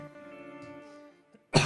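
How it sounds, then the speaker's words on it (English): A single sharp cough lands close on a microphone at the very end, following a stretch of steady low tonal background hum. "I'm coughing straight on the microphone"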